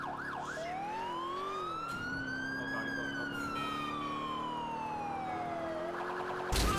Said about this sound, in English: Running lights and sirens.